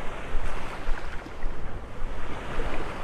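Ocean surf rolls onto the sand at Vanderbilt Beach in North Naples, Florida, at daybreak, a continuous broadband wash with rhythmic surges of breaking waves and some wind noise.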